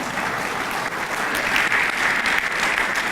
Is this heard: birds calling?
no